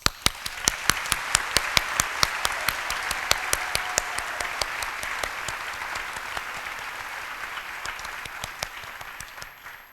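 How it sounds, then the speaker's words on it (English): Audience applause at a medical school commitment ceremony, dense steady clapping with sharp individual claps standing out at first, sustained for about ten seconds and gradually thinning toward the end, with no speech over it. "I just want to take a moment to give a big shout out and applause."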